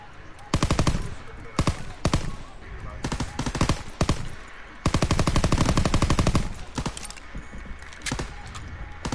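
Rapid bursts of automatic gunfire from a WWII video game as a player shoots at targets, loud and close, with clustered volleys separated by short pauses.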